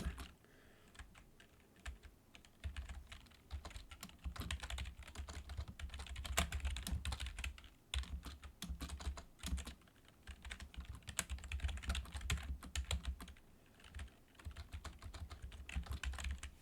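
Someone types continuously on a computer keyboard, with close, brisk key clatter in uneven bursts and short pauses, and no voices.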